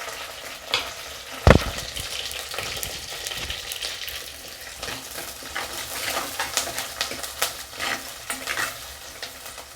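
Onions and curry leaves frying in oil in a pan for an egg curry, a continuous close sizzle with a sharp utensil knock early on and scattered stirring clatter.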